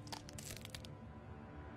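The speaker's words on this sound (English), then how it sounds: "Why am I hearing bone crunching?" Bone-crunching sound effect from a Batman cartoon, a loud burst of crunching and cracking in the first second that stops abruptly, leaving a steady low background rumble.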